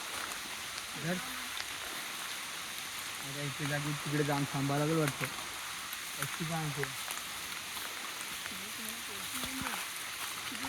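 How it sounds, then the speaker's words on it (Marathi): Steady heavy rain hisses across the whole clip at night in dense jungle, with someone speaking over it in bursts. "खूप पाऊस आलेला आहे"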